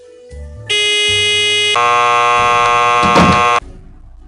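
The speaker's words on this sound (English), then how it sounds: "let's bring the buzzer of the guy who's waiting on his pizza" A harsh electronic door buzzer from the mystery video game Nancy Drew: Stay Tuned for Danger, one loud continuous drone lasting about three seconds that shifts pitch partway through, with no talking.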